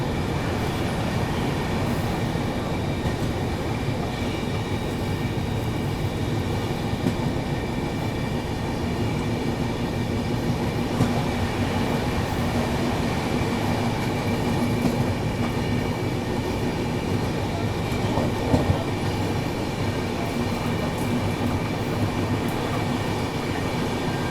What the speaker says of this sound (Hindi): बगल से क्रॉस हो रही है नागरकोइल कोल्लम एक्सप्रेस।